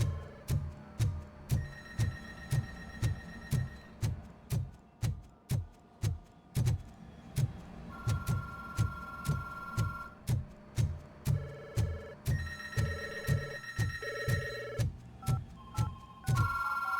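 A telephone rings in a video game: repeated electronic ring tones in a changing pattern over a steady throbbing, pulsing beat, with no talk.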